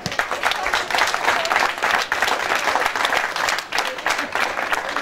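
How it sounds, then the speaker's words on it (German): A dense, steady wash of applause fills a hall at a stage show with champions on stage, many hands clapping evenly at close range with no pauses. "ist nochmal einen ganz, ganz großen Applaus wert"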